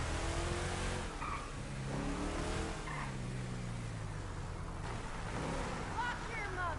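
Car engine in a driving video game, a continuous revving drone with shifting pitch and tire noise, loud and close, with faint background sounds layered over it.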